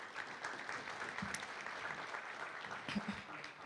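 Men at a male symposium keynote clap in a steady, fairly dense round of applause at moderate volume, with a few brief voices or whoops rising from the crowd.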